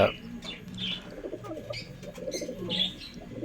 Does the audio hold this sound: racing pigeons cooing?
yes